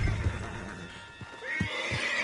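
Horse neighing in the video game Red Dead Redemption 2, a rising whinny near the end after a few soft hoof thuds and low rumbling background, moderately close and not very loud.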